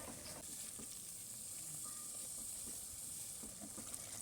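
Spice paste for a prawn malai curry with coconut milk sizzles steadily in a pan, a continuous bright hiss with faint scraping stirs underneath, moderately quiet and close, with no voices.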